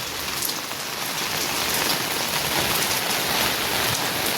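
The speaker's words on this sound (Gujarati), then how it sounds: "તમે જોઈ શકો છો, વરસાદ ચાલુ જ છે।" Heavy rain pours steadily onto a rooftop terrace in Surat, a dense, loud, unbroken hiss of drops spattering the surface for the whole stretch.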